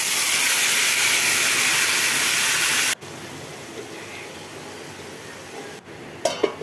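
Marinated lote fish hitting hot oil in a wok: a loud, dense sizzling hiss for about three seconds, then a quieter, steady frying hiss with a couple of sharp clatters near the end.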